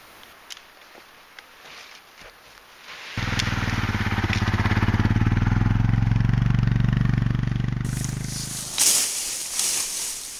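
Old Honda engine idling and hauling brush on a homestead, starting after a quiet stretch into a loud, steady low rumble close by that holds for several seconds before dropping away.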